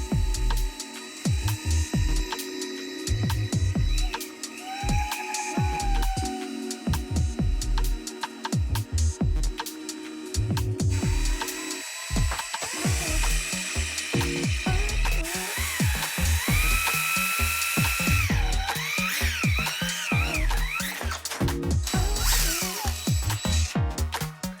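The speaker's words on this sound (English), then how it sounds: "And now we are all set to start drilling." Power drill boring a 9/64 hole for a quickshifter install on a Yamaha R3, whining in repeated bursts with brief pauses, then steadier higher-pitched grinding and buzzing, close and loud.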